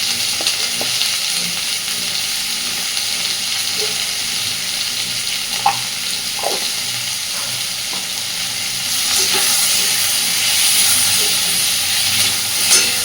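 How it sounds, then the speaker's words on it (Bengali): Onion and tomato fry in oil with salt and turmeric for a fish curry, a loud continuous sizzle and hiss close by, with occasional stirring clinks and a brief rise in intensity, no talking. "মোটামুটি টমেটোটাও একটু নরম হবে, পেঁয়াজটা স্বচ্ছ হয়ে যাবে, সেই পর্যন্ত সব কিছুকে সুন্দরভাবে ভেজে নেব"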